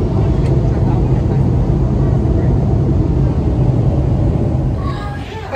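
Loud, steady airliner cabin roar during the landing approach into Oakland, a dense low rumble that holds constant throughout and eases slightly near the end, with a faint higher tone creeping in.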